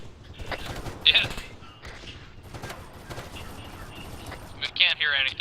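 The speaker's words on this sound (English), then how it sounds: "We can't hear anything with that gunfire." Bursts of video game gunfire crackle and thump repeatedly, loud and continuous, with voices talking over the shooting.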